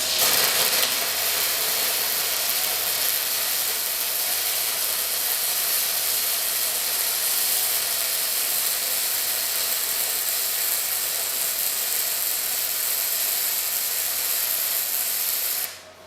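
A wire feed welder running a long continuous bead, a loud, steady crackling hiss that holds evenly for about fifteen seconds before cutting off abruptly, with no one speaking.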